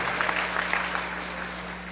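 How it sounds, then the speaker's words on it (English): Short burst of audience applause at a federal training session welcoming new staff, a steady wash of clapping from a room full of people, moderately loud and continuous. "Let's give them a round of applause."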